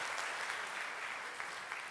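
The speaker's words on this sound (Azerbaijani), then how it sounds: "Vəfa Musayeva, alqışlarla" An audience applauds to welcome Vəfa Musayeva, the first Azerbaijani woman to summit Everest, with continuous hall-wide clapping, fairly soft and even throughout and with no talking over it.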